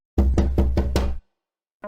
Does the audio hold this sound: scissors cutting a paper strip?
no